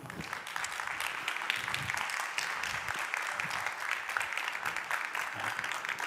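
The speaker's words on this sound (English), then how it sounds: "Can I get a warm round of applause" Warm applause from a conference audience greeting a Pulitzer Prize and Emmy-winning journalist, a steady, continuous wash of many hands clapping at moderate level with no voices on top.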